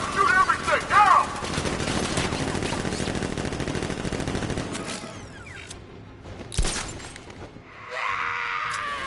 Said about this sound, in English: Open fire! Shoot everything! Now!